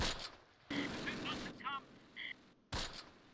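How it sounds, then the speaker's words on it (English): Gunfire crackles in the Close Combat WWII game, Normandy 1944, with bursts and volleys popping in and out between short gaps over a quiet ambient bed, fairly faint and distant with tonal game beeps in between. "They are returning fire, so they know somebody is nearby."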